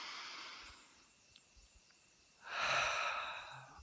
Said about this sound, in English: taking a deep breath and getting started